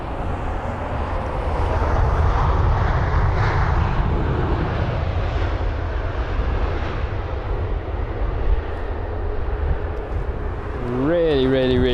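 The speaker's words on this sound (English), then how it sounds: "That's 787 greasing its way onto the runway." A Boeing 787 landing on the runway at London Heathrow, a broad distant engine roar that swells and holds with a faint whine near the end, heard under someone talking.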